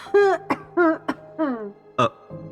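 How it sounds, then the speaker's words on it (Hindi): Coughing from someone inside a house: several short, harsh coughs and throat-clearing rasps with voiced, groaning breaths between them, close and fairly loud over about two seconds. "ये भीतर खांस कौन रहा है?"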